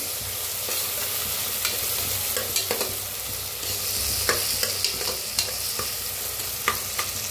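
Garlic and rice fry in a pan for soy rice, a steady sizzle broken by the scrape and clink of a spoon stirring at close range.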